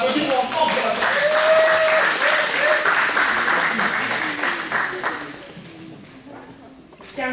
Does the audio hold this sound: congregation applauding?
yes